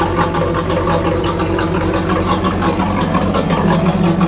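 A 1984 Camaro Z28 V8 idles steadily nearby with a leaking exhaust between downpipe and muffler, giving a rough, pulsing snarl that holds level without pause.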